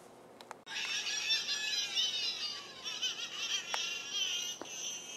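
A voice imitates an angry bird from the Angry Birds game with a loud, warbling squawk that rises and falls, sustained after a short click, with no other talk.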